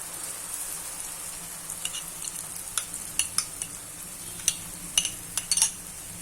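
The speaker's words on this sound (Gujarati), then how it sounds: "હવે આમાં આપણે જે મસાલો તૈયાર કર્યો છે તે નાખી દેશું" Spice mix being added and stirred into moong dal frying in a pan: a faint, steady sizzle with scattered spoon scrapes and taps that grow more frequent toward the end, with no talking.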